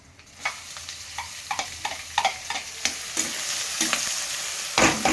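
Onions and urad dal frying in oil for oats upma, a steady sizzle with repeated close spoon scrapes and stirs that get busier toward the end.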